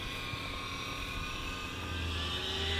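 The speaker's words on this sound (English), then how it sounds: "We're going to rotate the helicopter to my left. We're going to throw it out of safe and do a front loop." A Blade Eclipse 360 foam RC stunt helicopter flying outdoors gives a steady, buzzing whine of electric motor and rotor, holding level with a slight rise in pitch, heard alone at moderate distance.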